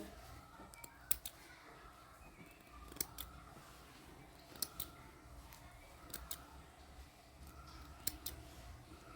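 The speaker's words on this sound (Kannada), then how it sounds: "ಎಕ್ಸ್ಟ್ರಾ ಇರೋದೆಲ್ಲ ಈ ಥರ ರೌಂಡಿಗೆ ಟ್ರಿಮ್ ಮಾಡ್ಕೋಬೇಕು" Scissors snipping net cloth to trim an embroidered flower, with quiet, close, irregular cuts at intervals over a faint steady background hum and no talking.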